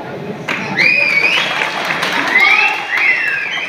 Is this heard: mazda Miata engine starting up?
no